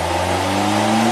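A 2008 Suzuki SX4 with a low-power fault revs its engine from about 2000 toward 3000 RPM, a loud, close engine note climbing steadily in pitch with no talking.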